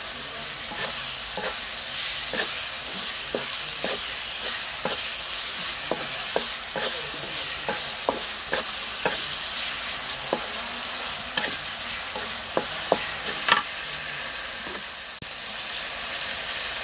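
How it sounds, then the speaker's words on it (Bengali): Chopped yardlong beans stir-fry in a hot pan with a continuous sizzle, broken by repeated scraping and clacking as a utensil tosses them, with no voices heard. "এখন বরবটি যেগুলো কুচে রাখছি আমি সেগুলো দিয়ে দিতেছি।"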